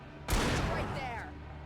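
A flare gun fires once in the Alan Wake video game, giving a single loud, sharp burst that decays slowly over the next second while a voice talks over the tail.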